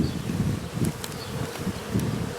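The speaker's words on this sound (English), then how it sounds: "A lot of bees out" Honeybees swarm around a trap-out set up at an outdoor colony entrance, a dense, close buzzing hum that swells and fades in waves as insects fly past.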